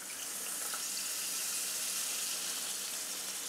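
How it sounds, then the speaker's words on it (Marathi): Lukewarm water pours steadily from a glass into paneer curry simmering in a pan, a continuous hissing splash that stays even for a few seconds with no voices. "आता ह्याच्यामध्ये आपल्याला टाकायचे पाणी"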